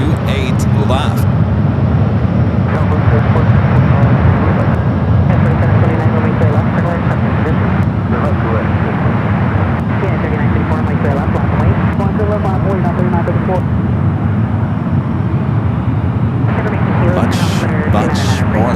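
An airliner takes off from runway 28 Left at San Francisco airport on a Tokyo-bound flight, its steady broad jet roar filling the whole stretch, loud and continuous, with a voice talking over it.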